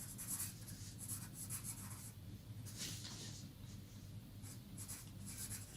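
Marker or chalk scratching across a board during a maths lesson, a continuous close rubbing stroke that runs without pause through the whole stretch at a low, steady level.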